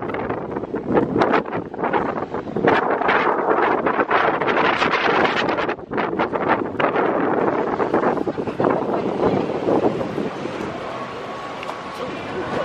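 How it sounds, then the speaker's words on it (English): Strong wind buffets the microphone on a cruise ship deck, a loud continuous roar with gusts rising and falling, while people talk nearby. "Oh, it's got windy by the ship."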